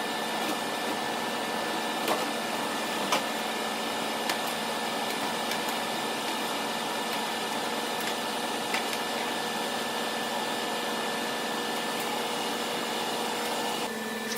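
A big heavy-duty exhaust fan pulls cutting smoke and fumes outdoors, giving a loud, steady broadband roar that holds unchanged from start to finish with a few faint clicks riding on top.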